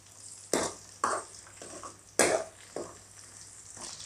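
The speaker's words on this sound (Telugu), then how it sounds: "పోపు శుభ్రంగా వేపుకోవాలండి, బాగా ఏగాలి." Spices for pappu charu tempering hit hot oil in a pan, giving several loud, close bursts of sizzle that flare up sharply and then hiss down, with no talking.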